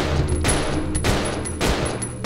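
Gunfire in Resident Evil 0 against plague crawlers: three loud sharp bursts of shots spaced about half a second apart, close and without talk.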